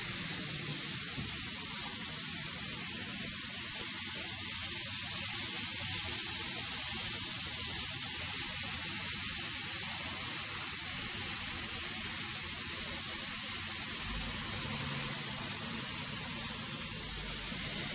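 A suction pump draws old differential fluid out of a classic car, producing a steady close hiss and airy rushing that carries on without a break; no one talks.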